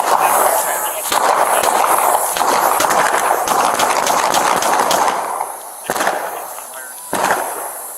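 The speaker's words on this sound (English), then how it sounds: "shots fired, shots fired!" Rapid volleys of gunfire in an exchange between police officers and an armed suspect, loud sharp cracks in dense bursts that thin out to a few isolated shots, with shouting voices mixed in.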